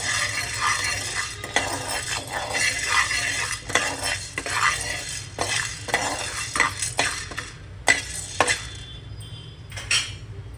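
Sabudana dry-roasting in a pan while a spoon stirs and scrapes steadily, close and fairly loud, with repeated metallic clinks and scrapes against the pan and no talking.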